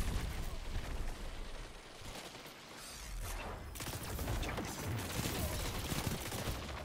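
Scatter grenade explosions in the shooter game Destiny 2, a dense, continuous burst of blasts and crackling gunfire-like noise, loud and rumbling, with a short dip midway before it swells again.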